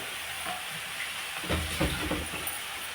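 Chili powder fries in oil with shredded cabbage and coconut, a constant close sizzle with a few louder stirring scrapes and crackles partway through.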